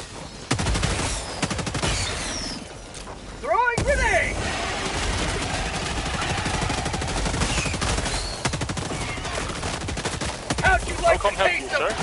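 Rapid automatic gunfire and explosions in the video game Helldivers 2 rattle on steadily, loud and dense, with a brief lull and a grenade blast partway through, under shouted talk from players.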